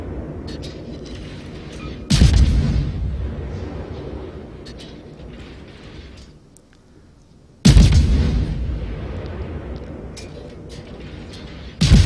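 Warship main guns firing in World of Warships, two heavy booming salvos several seconds apart, each a sharp loud blast trailing into a rumbling decay, with quieter ambient ship noise in between.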